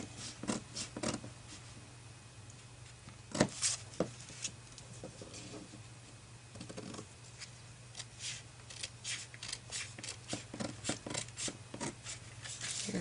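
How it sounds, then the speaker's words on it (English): Scissors cutting paper for an accordion-fold flip book, a run of crisp snips and rustles in uneven bursts, close and soft against a low steady hum. "let's cut out the other side."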